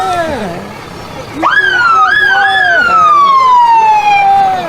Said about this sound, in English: Got the sirens.